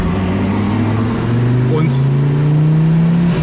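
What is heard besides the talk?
turbocharged Audi coupé engine accelerating from 2000 rpm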